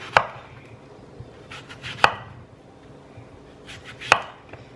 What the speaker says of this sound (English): I'm just gonna cut them into thin slices.